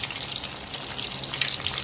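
Chicken deep-frying in a pan of oil at medium heat, a steady, dense crackling sizzle that continues without a break.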